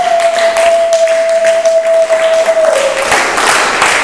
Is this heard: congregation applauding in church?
yes